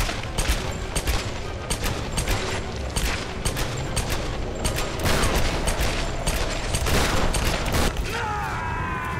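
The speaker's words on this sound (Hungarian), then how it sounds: "Az meg hát lőttem a fejét" Sustained rapid gunfire from dual weapons in a Tomb Raider game firefight, loud repeated shots and bursts with mechanical clatter filling the whole stretch, no pauses.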